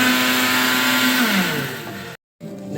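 A kitchen mixer grinder (mixie) whirs steadily and loudly, its high motor whine dropping in pitch as it winds down before cutting out briefly and restarting.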